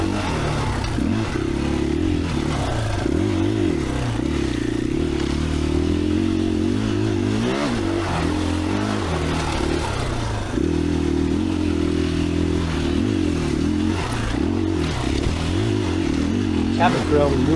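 A 2021 KTM 500EXCF dual-sport motorcycle ridden on an off-highway trail at Johns Peak OHV, its engine droning steadily with rising and falling revs and occasional clatter, close up, while the rider talks over it.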